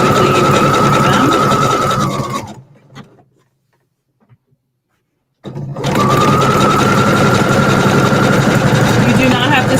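An electric sewing machine stitches a coiled rope bowl in fast, steady, loud runs, stopping abruptly for about three seconds of near silence before whirring back up to full speed.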